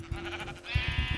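Several sheep bleating in the Minecraft video game, overlapping wavering bleats close by over a steady background hum, with no speech.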